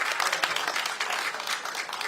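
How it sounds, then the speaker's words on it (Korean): Audience applause at a Korean political rally, dense continuous clapping from a large crowd, loud and sustained for the whole stretch with no talk over it. "다시 한번 큰 박수 부탁드립니다."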